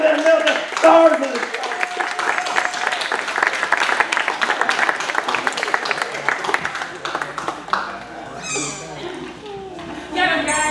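Audience applause for a guest star at a live-to-tape artist television festival show, dense steady clapping through most of the stretch with voices talking and cheering over it.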